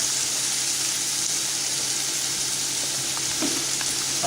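Chopped onion sizzles steadily in a hot pan for a lamb jalfrezi, a loud, continuous frying hiss with faint crackles and no talking.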